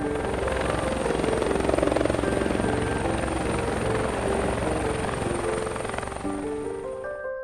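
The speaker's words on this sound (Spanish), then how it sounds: "en cuestión de minutos el helicóptero comenzó a despegar" Helicopter taking off, its rotor thumping and turbine whining in a loud, steady roar that holds throughout and eases slightly toward the end, close by.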